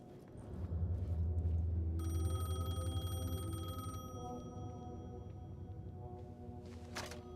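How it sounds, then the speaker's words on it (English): Payphone ringing in the Alan Wake 2 video game, a bright electronic bell tone sounding in a steady burst over a low ambient drone, then trailing off into quiet room tone. "The payphone was ringing."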